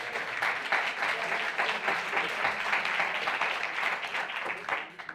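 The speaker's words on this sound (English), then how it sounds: "Can we get a round of applause for that?" An audience claps in sustained, even applause for about five seconds, dense and fairly close, tapering off at the very end.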